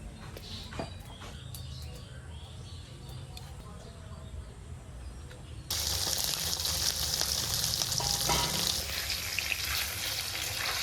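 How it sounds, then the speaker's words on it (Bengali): Hilsa fish pieces frying in plenty of hot oil in a wok. A soft background gives way about halfway through to a sudden loud, steady sizzle that stays dense and continuous to the end. "একটু বেশি তেল দিয়ে মাছগুলো ভাজবো"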